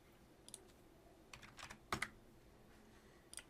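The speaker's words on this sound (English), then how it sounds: "typing in the correct width, hitting Enter" Quiet typing on a computer keyboard while sizing pictures in a Word document, a few scattered clicks and short key bursts with one sharper keystroke like Enter, close and alone.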